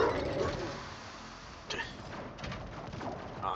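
A dog in the video game Warhammer 40k: Rogue Trader gives a few short barks and whimpering yelps in separate bursts over background game sound.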